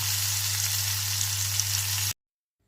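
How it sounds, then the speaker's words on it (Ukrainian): Steady, close sizzling of crucian carp frying in hot oil with a constant low hum underneath, ending abruptly. "наливаємо олію, нагріваємо і саме її смажити. Смажимо до повної готовності."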